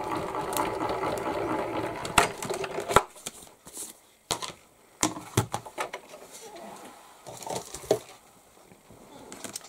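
Embossing folder cranked hinge side first through a manual die-cut and embossing machine, giving a dense grinding ratchet-like rumble for about three seconds, then sparse clicks, knocks and handling taps, close and fairly loud with no talk.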